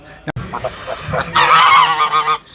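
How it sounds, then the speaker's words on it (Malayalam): Loud, harsh honking from foreign-breed ducks on a farm, several calls in a row, ending in a sustained noisy burst of honks close by. "ഇതൊരു വെറൈറ്റി താറാവട്ടോ"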